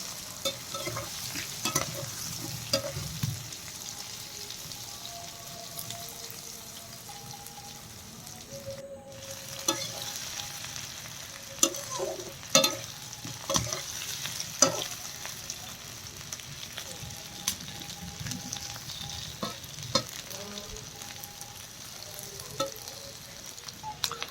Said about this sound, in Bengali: তো এখন আমি আলুটা আরও নেড়ে নিচ্ছি।